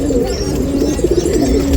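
Gouran pigeons at a loft in Shinde village near Nashik coo steadily, close and loud, with soft overlapping calls from several birds filling the short stretch.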